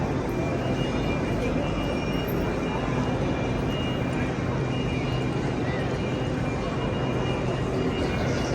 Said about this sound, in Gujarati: બીજી વાતાવરણ છે ટ્રેન સ્ટેશનનું અત્યારે